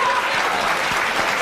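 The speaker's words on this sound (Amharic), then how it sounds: "እስቲ አጨብጭቡለት።" Steady applause from an audience, a continuous dense patter of clapping that fills the short moment evenly, with a faint crowd murmur and no clear speech.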